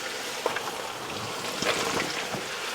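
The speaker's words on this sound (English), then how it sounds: "we're going to throw in the rest of our mirepoix. Carrot, celery" Carrot and celery tumble into a hot soup pot already holding onion, giving a steady close sizzle with a few soft thumps and scrapes as the vegetables land.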